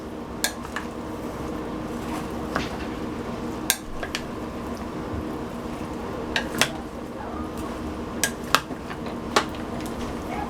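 A spoon stirs beef stew in a crock pot, with a soft, wet churn and scattered clinks of metal against the pot, at moderate distance with no one talking.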